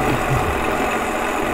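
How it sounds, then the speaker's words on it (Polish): A tractor with a large, heavy two-furrow plough works uphill in third gear, its engine a steady, loud low-mid drone that holds throughout with no talk over it. "Ciągnik jest niezastąpiony."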